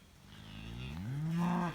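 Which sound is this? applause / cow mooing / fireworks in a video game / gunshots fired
cow mooing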